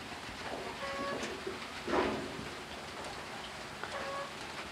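Rain falls steadily at a rural farm where rice-field rats are raised, a constant broad hiss with a few louder patters and a brief swell midway, faint and continuous throughout.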